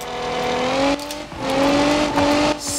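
A car in BeamNG.drive launches from a standstill at high revs and accelerates hard, its engine whine climbing steadily with brief dips at gear changes, loud and close with no talk.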